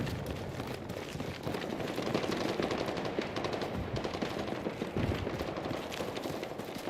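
Video game gunfire from a pistol plays as rapid, repeated sharp shots in a dense, continuous stream at moderate loudness with no pauses.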